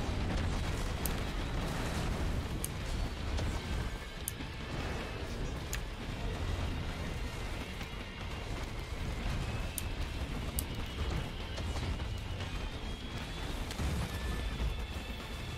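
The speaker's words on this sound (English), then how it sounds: "Blue explosions are from my active item, my equipment. It's called Blue Meteorite." In the video game Risk of Rain 2, Blue Meteorite impacts rumble and crash continuously, a dense, unbroken barrage of explosions with faint higher chimes over it and no voices.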